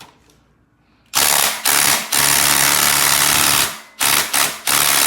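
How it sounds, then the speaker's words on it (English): A DeWalt 20 volt impact driver with a 19 socket hammers on a K20 engine's crankshaft pulley bolt, starting after a quiet second and rattling loudly in several long bursts separated by brief pauses. "I have my 20 volt impact driver in 19 socket, and look."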